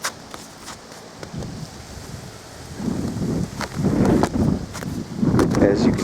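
Ice cracking on the Thunder Bay River in Alpena, Michigan: irregular sharp cracks and crunching bursts over steady wind noise, growing louder and denser in the second half.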